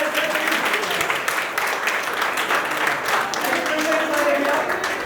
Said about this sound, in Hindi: जोरदार तालियां बन रही हैं।